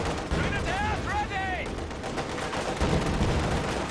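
In Company of Heroes 2, a German Panzer tank fires on a Soviet T-34 amid a battlefield clatter of gunfire, with a brief whistling shell sound early on and dense bursts of shots throughout.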